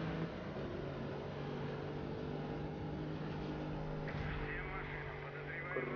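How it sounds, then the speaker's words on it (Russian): A car's engine drones steadily under nitro boost in Need for Speed Rivals, with racing engine tones sustained throughout and a brief rising whine toward the end. "Так, давайте включим нитро."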